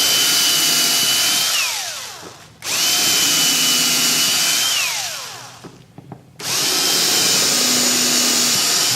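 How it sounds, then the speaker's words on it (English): A power drill whines at high speed into a Strat-style kit guitar body in two long bursts, winding down between them, with a brief pause and faint clicks in the middle. "I can drill these out a bit more now."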